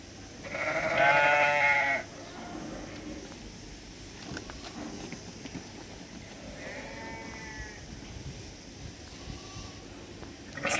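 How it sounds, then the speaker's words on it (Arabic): Sheep and lambs bleat on a farm offered for sale near Tetouan, one loud close bleat up front followed by fainter, more distant calls over a low rustling background. "كاينين جوج خرفان"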